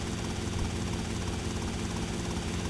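A helicopter in GTA Vice City on PS2 gives off a loud, steady rotor and engine drone with a dense rumbling texture throughout, with no talking.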